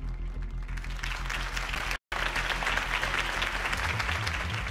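A large crowd in the video game Batman Vengeance applauds steadily, with dense, continuous clapping that briefly cuts out before resuming.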